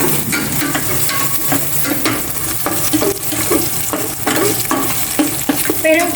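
Chopped onion being stirred and fried in a pan for Filipino pork adobo, with a steady close sizzle broken by repeated scraping strokes of the utensil against the pan.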